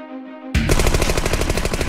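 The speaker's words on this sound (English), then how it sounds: "50 is all this machine gun can fire before running out of ammo" Tommy gun in a video game: after half a second of low hum, a loud, continuous rapid-fire burst of closely spaced shots rattles without pause to the end.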